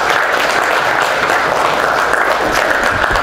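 Audience at a dinner celebrating the 106th birthday of President Park Chung-hee applauds loudly, a dense, steady wash of many hands clapping that holds evenly throughout without pause.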